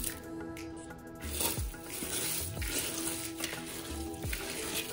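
Fried onions go by the handful into a pot of Hyderabadi chicken dum biryani, with a steady close sizzle and soft stirring, scraping and shuffling across the whole stretch and no talk.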